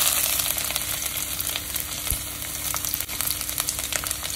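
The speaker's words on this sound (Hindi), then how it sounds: "तो ऑयल अच्छे से गर्म होते ही मैं डाल दूंगी एक चुटकी भर सेसमे सीड, किया हुआ लहसुन ये 5-6 कली है लहसुन की," Sesame seeds, garlic cloves and a piece of ginger fry in hot oil, giving a steady, close crackling sizzle with scattered pops and a brief stir, and no talking.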